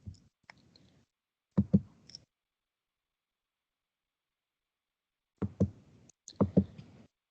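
A computer mouse gives sparse, faint clicks in two small clusters separated by a long quiet stretch, with no talking.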